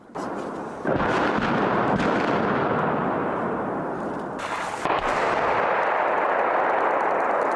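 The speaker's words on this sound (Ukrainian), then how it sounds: "У наш бік полетіли важкі снаряди. Ліс потонув у відлунні вибухів." Heavy artillery shell explosions boom and roll through a forest, their long echoing rumbles overlapping into a continuous roar, with a fresh loud impact partway through.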